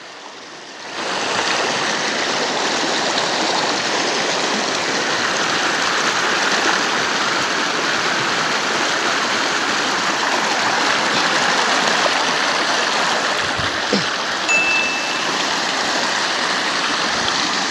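Flooded river water rushing steadily beside a 50 m pipe crossing, a loud continuous roar close by with no talk.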